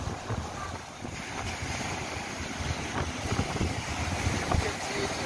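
Strong wind roars across the shore of Lake Baikal on a cold autumn day while big waves break, a steady, rough, gusty rush with surf churning close by.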